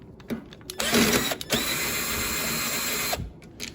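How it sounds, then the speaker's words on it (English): A cordless drill removing 5/16 bolts from a Craftsman lawnmower whines in a few short bursts, then runs in one sustained spin before stopping, loud and close. "5/16 bolts you take to get this off. I'm doing this with a drill"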